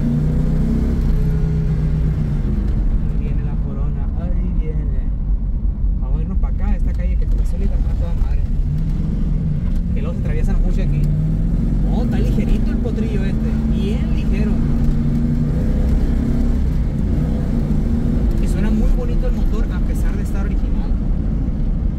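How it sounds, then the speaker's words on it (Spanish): A 1978 Ford Mustang II engine is revved with a short throttle blip, a low rumbling drone that swells under someone talking in Spanish throughout. "Vamos a darle una pequeña aceleradita aquí"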